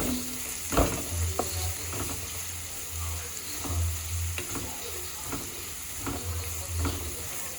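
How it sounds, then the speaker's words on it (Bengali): Onions stirred and fried in a pan for Bengali mutton kosha: a steady sizzle with repeated scraping stirs at an irregular rhythm, close and fairly loud, with no talking. "এইভাবে নেড়ে চেড়ে ভেজে নেবে পেঁয়াজ"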